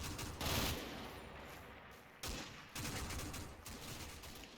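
Distant, muffled rattling bursts of troop gunfire from Combat Mission Final Blitzkrieg roll on steadily, a low crackling fusillade with a few louder surges, faint and without talk.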